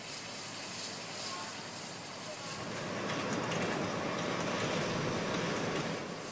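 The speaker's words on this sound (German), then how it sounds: "eine Fahrt mit einem Dampfzug gehört einfach mit dazu" A steam train carries passengers at the Kyoto railway museum. A steady, rushing rumble of the moving train runs throughout, fairly faint, and swells somewhat louder halfway through.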